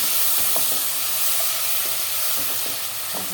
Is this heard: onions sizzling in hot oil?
yes